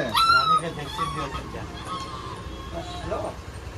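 A frightened dog whimpers and yelps nearby in high, wavering whines and short yips, mixed in with people talking over it.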